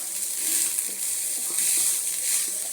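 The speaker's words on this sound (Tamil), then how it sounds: "மீன் வறுத்த சட்டியில் சோத்தை வரட்டி" Cooked rice is stirred and tossed in a pan still holding oil from frying fish, a loud steady sizzle and crackle close up, with soft scraping stirs beneath and no speech.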